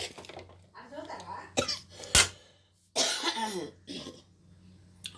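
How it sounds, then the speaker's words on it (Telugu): A person eating a fried ivy gourd dish coughs several times in short harsh bursts, close and loud, between stretches of their own talking. "సారీ అండి, దగ్గు వచ్చింది"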